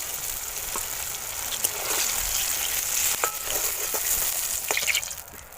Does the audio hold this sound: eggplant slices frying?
yes